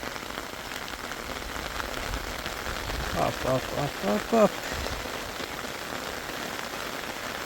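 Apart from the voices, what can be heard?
heavy rain falling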